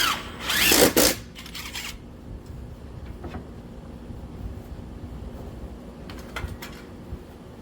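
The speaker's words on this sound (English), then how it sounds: "I'm going to go ahead and finish screwing off this picket and this one over here." A power drill drives 2-inch screws into the pickets of a wooden fence gate, giving one loud, close whir near the start and then softer, briefer bursts against a low outdoor background.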